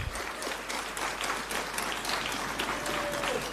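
Sustained applause from a seminar audience at a BRICS education forum, dense clapping throughout with a faint whistle-like tone rising near the end.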